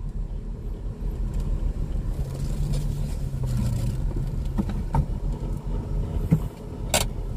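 A 1995 Toyota Starlet idling as it reverses, a steady low engine rumble with a few faint clicks and a sharp metallic tick near the end, no talking.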